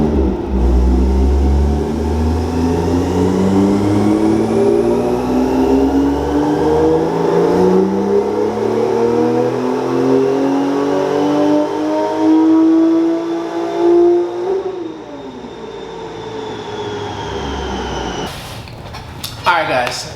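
A Porsche 997 Turbo engine revs hard on a dyno, climbing steadily in pitch through a long, loud pull before backing off and winding down.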